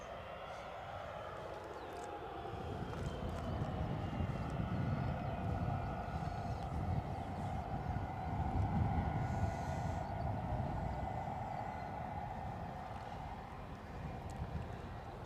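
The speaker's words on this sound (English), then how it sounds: "we've got a bit of British Airways outgoing action" A six-year-old British Airways Airbus A320neo jet departing Edinburgh, its engine roar swelling into a loud sustained rumble that holds steady for the whole stretch without any talking.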